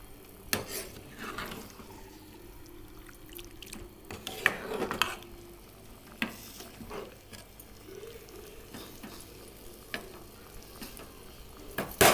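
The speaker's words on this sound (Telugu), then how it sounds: "ఇది ఉడుకుతుంది బాగా." A home-style paneer curry simmers in a pan over raised heat. A soft low sizzle bubbles in the background, broken by scattered clinks and scrapes of a utensil stirring against the pan.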